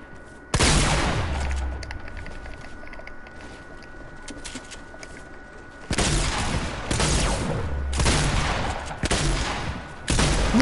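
Loud bursts of automatic gunfire in a Fortnite-style shooter game, a sharp opening volley followed by a quieter lull, then several rapid bursts in quick succession, with no talking over them.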